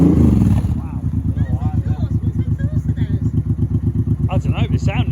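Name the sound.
Suzuki M1500 motorcycle engine revving with dual hyperchargers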